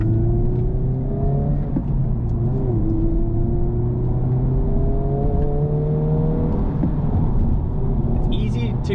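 A 2024 Honda Civic Type R with a manual gearbox accelerates on the road after its break-in period. A steady engine drone rises in pitch through the gears under constant road rumble, heard from inside the cabin.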